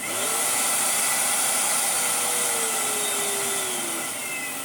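Karcher VC3600 commercial vacuum cleaner running with a loud, steady high-pitched whine and airflow hiss, its motor pitch drifting slightly and easing off at the end, with no talking.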